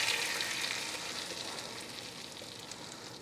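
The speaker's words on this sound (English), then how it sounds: "When the butter or the bacon fat has completely melted and the pan is ripping hot, add the cornmeal" Cornmeal sizzles steadily in a ripping-hot pan of melted butter or bacon fat, a dense, even frying hiss that fades slightly over a few seconds, with no talking.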